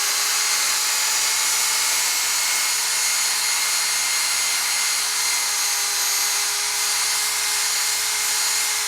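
A power tool fitted with a 3M abrasive pad grinds on a motorcycle brake disc with a loud, continuous, even high-pitched whir and a steady tonal hum, close and unbroken throughout, with no talking.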